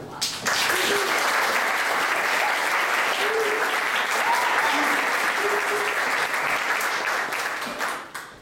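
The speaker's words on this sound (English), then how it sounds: "Please give her a round of applause." Sustained applause from an audience at a startup pitch event, steady and full after a quick swell, fading toward the end; faint voices emerge briefly within it.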